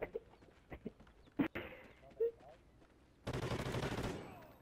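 Gunfire from the shooter game Call of Duty: Ghosts on PS3, scattered pops and cracks early on, then a dense sustained burst of rapid fire in the last second and a half, fairly loud.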